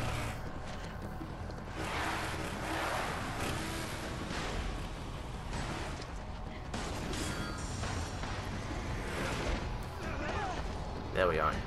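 Motorcycles attacking in the Resident Evil 5 video game, a dense, loud wash of engine roar, gunfire and crashes that continues without pause, with someone talking over the action.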